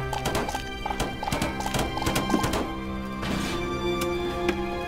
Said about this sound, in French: Oh, le cheval qui se rebiffe.